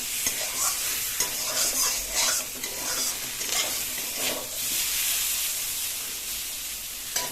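Potatoes for an egg malai curry stir-fry in a pan, giving a steady hissing sizzle broken by repeated scraping stirs of the spatula, close and alone with no voices.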